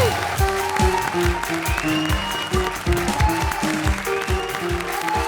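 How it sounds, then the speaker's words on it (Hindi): A studio audience at the Comedy Circus TV comedy show claps steadily and fairly loudly for several seconds, with a rhythmic musical backing playing underneath. "जोरदार तालियां सिद्धार्थ और भारती के लिए।"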